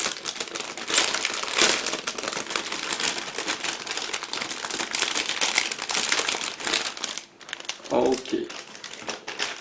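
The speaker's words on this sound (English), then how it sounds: "Next we have 4 plastic sprues packed into the one bag. I need to find a way to open it." Plastic bag holding four model kit sprues for a 1/48 AMK MiG-31 being wrestled open, with steady close crinkling and crumpling throughout, a brief voice near the end.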